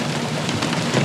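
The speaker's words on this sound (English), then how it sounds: "The hail in the Black Hills can be absolutely intense, loud, sudden, and relentless." Hail pours down during a Black Hills storm as a dense, steady hiss of pelting, with faint individual hits poking through the constant roar.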